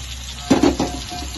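Blended spice paste hits hot oil while being sautéed for Padang-style grilled fish, giving a short burst of sizzling and stirring that quickly settles back into a low background hiss.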